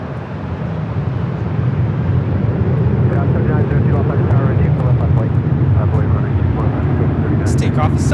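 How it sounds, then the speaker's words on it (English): A Southwest Airlines Boeing 737-700 takes off from Los Angeles International Airport bound for Las Vegas, a loud, steady jet roar that holds throughout the takeoff run. "This takeoff is Southwest Airlines 3265 taking off to Las Vegas on the 737-700."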